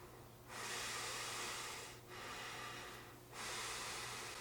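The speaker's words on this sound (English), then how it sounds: "Now I'll breathe through my nose." Nasal breathing by a person wearing a mask, three long airy breaths close to the mic, each a loud hissing rush separated by short pauses.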